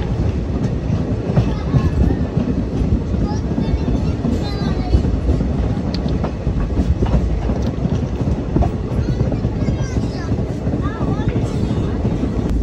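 Sirsa Express overtaking on adjacent track while the passenger train rolls along, giving a dense, steady close rumble of wheels and carriages with faint squeals and clatter throughout.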